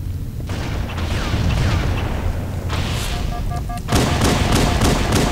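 Grenade blasts in the shooter game Halo CE on a multiplayer server, with heavy booming bursts that come in quick succession, then a louder sharp burst near the end and no talking.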